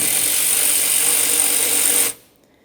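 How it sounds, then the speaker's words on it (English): A steady high-pitched whir of a power ratchet or driver spinning a 13mm socket on radiator cooling fan mounting bolts of a 2004-2008 Ford F-150 5.4L V8, running continuously then cutting off abruptly near the end. "We're using a 13mm for all 4 of these mounting bolts."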